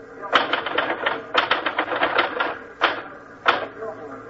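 Typewriter clatter from a radio drama: bursts of rapid mechanical key strikes with pauses between runs, fairly close and crisp, and several sharp single clacks near the end.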